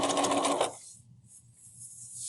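A sewing machine back stitches a tote bag corner in a short, loud, fast burst of mechanical whirring up close, then stops abruptly, leaving faint low clicking and handling noise.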